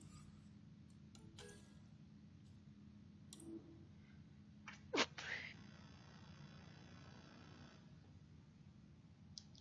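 A single sharp sneeze from a gamer playing Mass Effect: Andromeda, a brief loud burst in the middle of a quiet stretch with faint clicks and low background hum.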